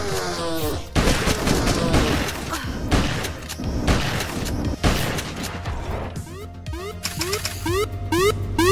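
Shotgun blasts in the video game Beyond Sunset, fired against big robots: a dense run of loud, booming shots with gunfire and thuds packed together, then a few sharper repeated clanks near the end.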